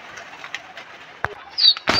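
Pigeons perched at a rooftop loft give soft cooing calls over a faint background hiss, with a few sharper bird sounds and brief clatters toward the end.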